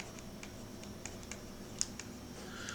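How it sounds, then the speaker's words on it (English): Calculator keys being pressed on a TI-30 XIIS, a series of light, quick plastic clicks at an uneven pace, quiet and close, with no talking. "on the TI-30, you would want to type in 10, hit your probability key"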